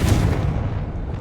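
In Hogwarts Legacy, a Confringo spell explosion fills the whole short stretch with a loud, dense, rumbling burst that fades slightly toward the end.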